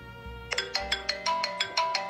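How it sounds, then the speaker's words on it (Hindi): A mobile phone ringtone for an incoming call chimes in a bright, regular pattern of repeated tones, about four per second, close and clear over a low hum, with no talking. "लो, फोन ही आ गया।"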